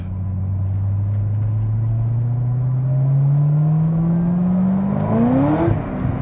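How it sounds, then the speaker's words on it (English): A Chevrolet Corvette C6 ZR1 accelerating, its loud, close engine droning steadily and then climbing sharply in pitch as revs build, before easing off at the end. "All right, well, that's the C6 ZR1."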